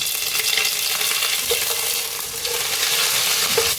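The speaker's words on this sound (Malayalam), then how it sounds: "ഇനി അതിനകത്തോട്ട് നമുക്ക് നമ്മുടെ നാടൻ കറിവേപ്പില ഇട്ട് കൊടുക്കാം." Curry leaves dropped into hot coconut oil in a pan for a Kerala chicken varutharacha curry, giving a steady loud sizzle and frying crackle that lasts several seconds, with a few small pops and no talking.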